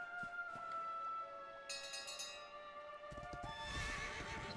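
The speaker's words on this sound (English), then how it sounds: "Still got a horse though." A horse in the Dragon Quest XI video game whinnies loudly, then its hooves clip-clop in a quick rhythmic trot, with game music tones sustained underneath.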